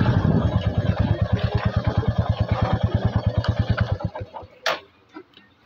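A motorcycle engine idles in a steady, close, rapid thumping beat for about four seconds, then cuts out, followed by a brief clunk and quiet.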